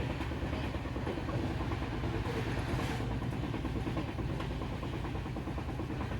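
A long-distance train to Bangalore, India, rolls along the rails with a constant loud rumble and rhythmic clatter, heard from inside the carriage.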